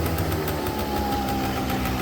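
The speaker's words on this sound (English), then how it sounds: "it seems to be idling really good" A Yamaha Zuma 50 scooter's small engine idles steadily and evenly at a constant hum, close up and moderately loud, with no one speaking.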